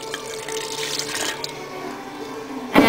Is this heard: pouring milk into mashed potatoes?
yes